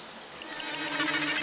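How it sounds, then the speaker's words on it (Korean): Water running in a bathroom at home, a steady, faint hiss of flow that swells slightly over a brief moment with no voices. "그런데 그때 어디선가 달팽이관을 타고 들리는 물소리."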